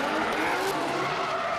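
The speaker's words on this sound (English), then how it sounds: "Both of these cars fly off the track" Drift cars at a D1NZ pro drifting event in Tauranga skid off the track. A loud, continuous tire screech mixes with engine roar throughout.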